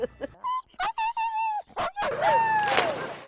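Service dog in training whimpers close by in a run of short, high whines, then a longer wavering whine rising into a yip, with brief human voice sounds mixed in.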